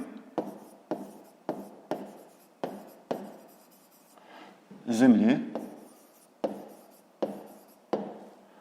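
Pen strokes on paper from someone solving a fifth-grade maths exercise by hand: regular short scratchy taps, steady and close, with a brief louder rustle midway and a quiet voice talking in places.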